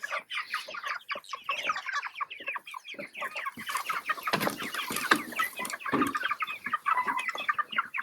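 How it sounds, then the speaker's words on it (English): Farm chickens cluck busily in a flock, a close, continuous chatter of overlapping clucks and squawks with no talking. "Come on, chickens."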